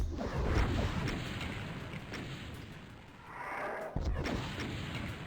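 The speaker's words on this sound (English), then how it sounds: "So what I do is I fire a couple of shots, let's say to the left, to hurt or destroy one of the revenants." Rocket shots fired at revenants in the classic DOOM game, heavy booming launches and explosions that swell and fade, with a deep rumble and a sharp new blast near the end.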